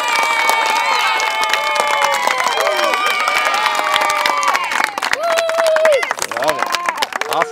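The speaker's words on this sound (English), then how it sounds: "And now just general cheering." A group of people shouting and cheering with whoops and hollers while recording crowd audio for a baseball commercial, loud and close, a continuous overlapping mix of excited voices.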